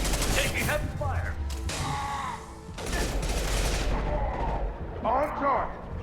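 Heavy gunfire in the video game Mass Effect 2, dense bursts of shots and mechanical clatter filling the whole clip, loud and close, with voices talking over the combat.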